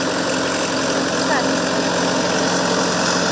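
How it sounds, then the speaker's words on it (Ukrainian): A mini-tractor engine drones steadily through a potato harvest in the field, a constant mid-pitched running hum with no pauses, close and fairly loud. "Цей міні-трактор не тільки полегшує роботу"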